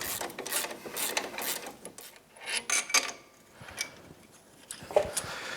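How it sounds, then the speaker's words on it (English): Wrench clicking and ratcheting on a Yamaha YXZ1000R's lower shock mount, loosening its 14 and 17 mm nuts: repeated short metallic clicks and rattling bursts up close, with brief pauses between runs. "Let's go ahead and take off the lower shock mount."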